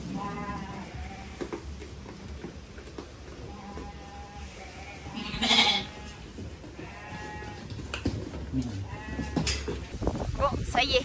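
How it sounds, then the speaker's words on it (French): Sheep bleat repeatedly, several animals close by on a ranch in Yucatán, Mexico, over a noisy outdoor background with a person talking now and then. "les moutons sont rentrés"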